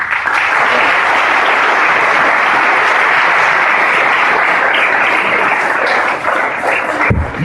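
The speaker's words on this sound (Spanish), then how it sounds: "Démosle un fuerte aplauso a Dios." Loud, sustained applause from a large audience at a talk on Cura Brochero, a thick continuous roar of clapping filling the whole stretch without a pause.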